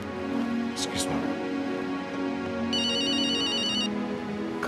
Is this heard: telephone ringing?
yes